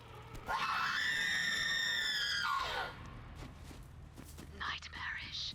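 A loud, sustained scream with a wavering pitch from the video game Borderlands 3 holds for about two seconds, then cuts off, followed later by a brief breathy burst of sound.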